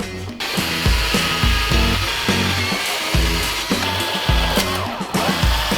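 A power tool cuts a car canard at the back before it is fastened in place, a steady loud buzzing whine broken by repeated short pulses of cutting, with no talk.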